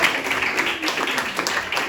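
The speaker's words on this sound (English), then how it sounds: "Give a round of applause for a great first time" A comedy club crowd at a New York Comic Con roast battle claps steadily for a first-time comedian, a thick wash of many hands over a low room rumble, with no talk.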